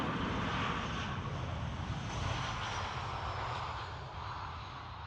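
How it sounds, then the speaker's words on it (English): A steady, loud roar of an aircraft engine from a plane coming in to land at Dublin Airport, a broad continuous rumble that holds level and eases slightly toward the end. "Absolutely essential that we catch this aircraft coming in."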